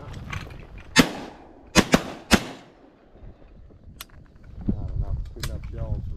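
Three sharp shotgun blasts crack out in quick succession while duck hunting on opening day in North Dakota, loud and close, with faint rustling before and a voice speaking quietly afterward.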